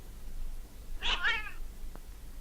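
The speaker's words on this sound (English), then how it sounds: "Suddenly, in a flurry of claws and spitting, Chilly repels the invader." A Siamese cat in a fight lets out a brief, sharp yowl and spit, a single harsh snarling burst from close by against a quiet background.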